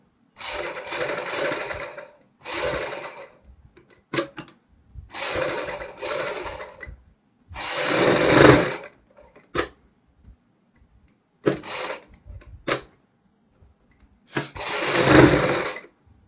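A sewing machine stitches around a kurti neckline backed with buckram, running in repeated short bursts of rapid clatter separated by pauses and brief clicks, close and clear.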